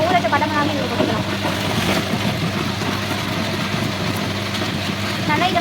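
A kitchen mixer grinds soaked ration rice with cinnamon and dried chillies. Its motor whirs in a steady, fairly loud drone with a gritty churning texture, and a voice may be faintly present beneath it.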